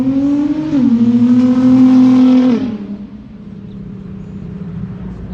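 Nissan GT-R engine revving loudly with a steady, rising drone for about two and a half seconds, then dropping off to a quieter idle rumble.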